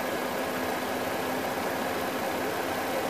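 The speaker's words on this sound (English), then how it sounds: "So we're going to start the engine and warm it up" A warmed-up car engine idling during a block test, a steady dense broadband rumble and hiss holding even in level throughout, close and with no voices.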